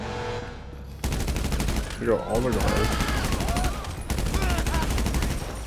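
Gunfire in the video game GTA 5 during a Cayo Perico heist setup: a burst of rapid automatic shots opens loudly, then continues as repeated volleys while someone talks over parts of it.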